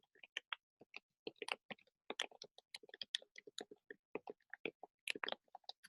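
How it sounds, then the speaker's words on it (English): Keys clatter on a computer keyboard in quick, irregular bursts of light clicks with brief pauses, quiet and close with no voices. "Let me make sure let me type this out."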